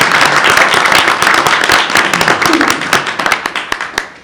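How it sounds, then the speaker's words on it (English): Close, loud applause at a school board meeting, a dense burst of clapping that thins into distinct individual claps as it tails off. "Let's give them a round of applause."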